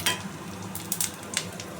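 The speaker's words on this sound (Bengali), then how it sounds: "আমি কড়াইতে তেল গরম করে নিয়েছি। এইবারে আমি যে মশলাটা সয়াবিনে দেবো সেটা আমি সবগুলো তেলে ভেজে" Whole spices fried in hot oil in a wok, a steady soft sizzle with a few sharper crackles and stirring scrapes, close and alone with no talk.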